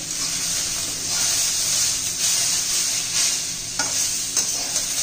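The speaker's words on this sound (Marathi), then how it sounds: "अजून थोडा आपल्याला कांदा भाजून घ्यावा लागेल." Sliced onion frying and sizzling in a pan while being stirred, a steady bright hiss with occasional scraping stir sounds, close and continuous with no talk.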